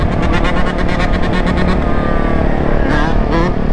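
A two-stroke dirt bike engine revving hard while riding, a loud, buzzy, continuous drone with a pulsing rhythm that shifts pitch, close and dominant throughout.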